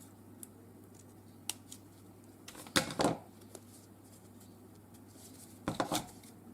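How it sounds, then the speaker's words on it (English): Scissors snip through thin craft foam in a few close, crisp bursts with quiet pauses between, two cuts standing out louder than the rest, no voices. "I'm just going to get my scissors in here because I did so thin and I'm a bit worried I'm actually going to tear it."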